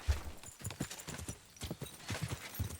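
Horse hooves clip-clop in the medieval open-world game Kingdom Come: Deliverance 2, a quick irregular run of hoof strikes at moderate volume with faint game ambience behind.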